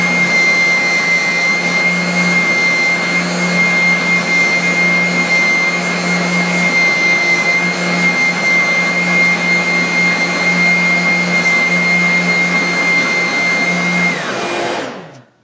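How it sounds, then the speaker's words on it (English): A spindle sander works a guitar body, a replica of a vintage Stratocaster, producing a loud, steady whirring hum with a sustained tonal whine for about fourteen seconds before spinning down. "we'll do that on the spindle sander."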